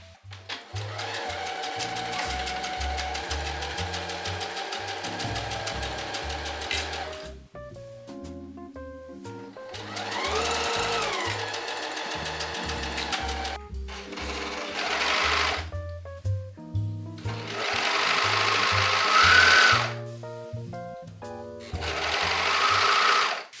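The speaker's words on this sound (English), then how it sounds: "We're gonna sew here with the normal seam allowance" A sewing machine stitches the skirt to the bodice of a puffy cloud dress in several bursts of steady, rapid whirring, with short pauses between runs and small clicks as the fabric is adjusted.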